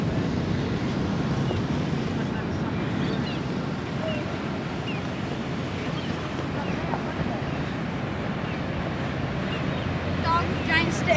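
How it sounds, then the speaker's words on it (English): Ocean waves at Warilla Beach, a steady broadband wash of surf with gusty wind buffeting the microphone throughout, loud and continuous with no clear individual breaks. "Whoa, the waves are crazy today."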